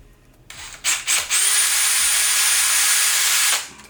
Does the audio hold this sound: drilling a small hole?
yes